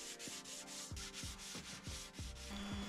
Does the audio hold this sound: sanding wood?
yes